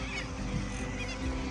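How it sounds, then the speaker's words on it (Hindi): White parrots screech in a park in Wollert, Melbourne, Australia, harsh raspy calls layered over a steady outdoor din, fairly close and continuous. "तोते गाह पा रहे ने, वाइट पैरट गाह पा रहे ने।"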